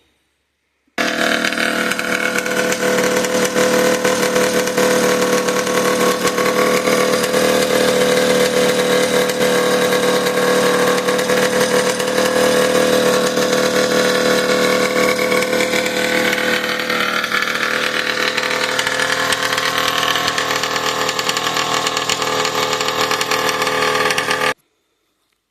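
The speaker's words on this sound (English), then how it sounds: "you just saw that motor running. That's a 250 I cut in half." A 250 snowmobile engine, made by cutting a 500 Indy motor in half, runs loud and close for about 24 seconds, holding a steady, rough, buzzing idle with no talking.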